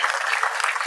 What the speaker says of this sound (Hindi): एक बार जोरदार ताली बजा के